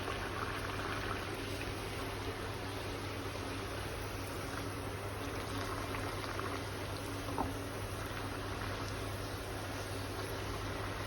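Sugar-glazed Andhra puri made from maida dough bubbles in hot oil, a continuous, even frying fizz heard close up, alone and without talk, with one small pop near the end.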